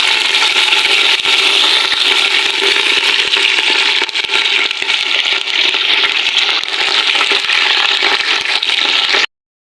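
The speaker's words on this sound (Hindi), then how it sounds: "तो यहाँ पे मैं फ़िश को इसमें शामिल करने लगी हूँ।" Fish frying in hot ghee, a loud, dense, continuous sizzle and crackle close by that cuts off abruptly at the end.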